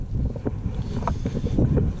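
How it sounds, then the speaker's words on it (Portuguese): Strong wind gusts buffet the microphone outdoors beside a short creek during fly fishing for traíra, a loud rumbling low roar that swells and surges unevenly throughout with no speech. "Que ventania, gurizada."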